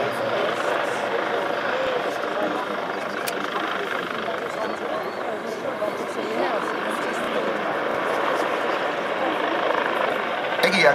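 A helicopter's steady rotor and engine drone during a flying display at a military air show in Wunstorf fills the whole stretch, loud and constant, with a person talking over it.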